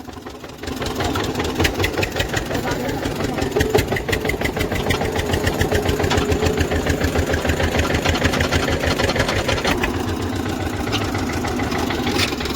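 A Sonalika tractor engine idles nearby, a steady loud rhythmic diesel chugging with rapid regular pulses and a faint knocking texture, continuing evenly without pause and with no talk over it.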